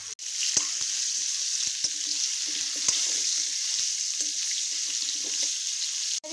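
Potato pieces frying in hot salted mustard oil give a loud, steady sizzle close by, punctuated by sharp ticks and pops of spattering oil and faint clinks, with no talking.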